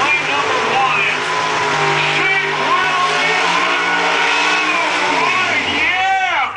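The '57 Chevy drag race car Shake, Rattle and Run rumbles and revs loudly, engine pitch swelling and dropping near the end, while an announcer's voice talks over it.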